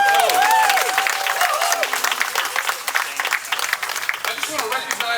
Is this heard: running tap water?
no